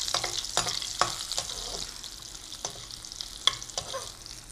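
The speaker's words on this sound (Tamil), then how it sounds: "கொஞ்சம் நல்லா அந்த பூண்டு ஸ்மெல்லாம் போகிற வரைக்கும் வறுத்துக்கலாம்." Crushed garlic sautéing in a pan for chicken rasam, a soft continuous sizzle broken by several sharp scraping stirs of a spoon against the pan, close and alone with no talk.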